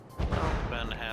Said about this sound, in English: the Overlord just got hit by a missile